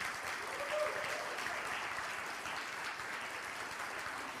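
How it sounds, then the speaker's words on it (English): An audience applauds a reverend at a Unity on the Bay gathering, a dense, steady clapping that fills the room and continues evenly throughout. "Let us all give a round of applause for the inspiration that is Reverend Noelle Nielsen."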